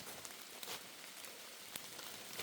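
Rain falls steadily outdoors during mushroom picking, a soft, even hiss of drops with a few sharper patters, fairly faint and with no voices.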